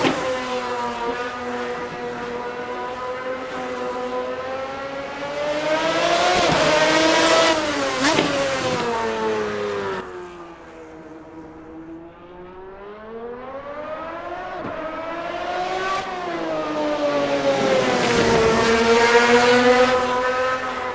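Race car engines from a GT Legends championship mod pack in Assetto Corsa, heard from outside as cars pass: loud rising and falling engine tones that swell, fade, then swell again with revving and gear shifts, no talk.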